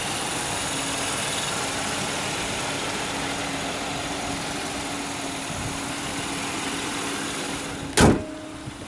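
A car's V6 engine idles steadily at a quiet, even hum with the air conditioning running, ending with a sharp clunk like a door or latch near the close.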